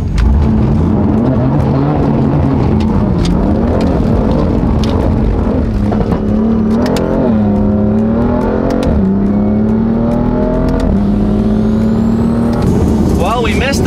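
A slammed BMW M4 cruising on a California highway gives a steady, loud engine drone and road roar with shifting pitch as it changes speed, while someone talks over it throughout.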